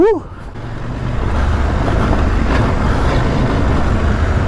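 A 2025 CF Moto 800 MT-X motorcycle on a test ride opening its throttle: after a short dip, a loud, sustained roar of engine and wind builds and holds to the end.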